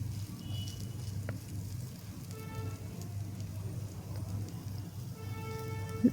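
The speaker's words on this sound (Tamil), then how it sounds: "தண்ணி சேர்த்துட்டு இன்னும் கொஞ்சம் நேரம் வேகிற வரையும் ஃப்ரை பண்ணால் போதும்" Bitter gourd frying in a pan with a little water added, giving a steady, soft crackling sizzle throughout with faint scattered pops and no talking.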